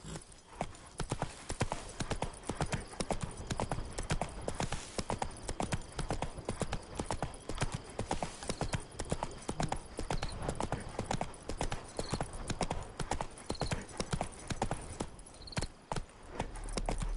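Horse hooves clip-clop steadily through a long stretch of riding in The Witcher 3, a continuous, close rhythmic trotting with faint creaks and no talk over it.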